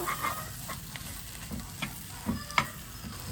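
Prawns fry in a pan with pepper and cumin, giving a soft, steady sizzle with a few scraping stir clicks and occasional sharper taps, close and fairly quiet with no voices.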